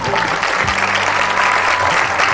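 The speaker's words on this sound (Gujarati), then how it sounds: "ખૂબ તાળીઓ પડે શંકર માટે" An audience claps steadily and loudly after a play about Adi Shankaracharya, a dense sustained round of applause with a faint voice underneath.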